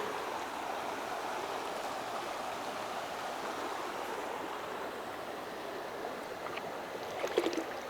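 Cold, clear creek water rushes and burbles in a steady broadband wash around a wader, close and continuous, with a few brighter splashes near the end.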